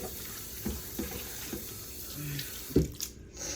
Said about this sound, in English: Let me just give them a quick little rinse right here.